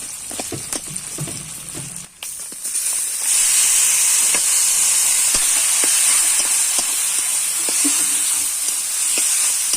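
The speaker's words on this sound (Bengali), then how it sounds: "ওইদিকে মাছ ভাজা হচ্ছে" Fish frying in a pan in a home kitchen gives a loud, steady sizzling hiss that holds throughout, broken by small pops and crackles, after a brief quieter stretch at the start.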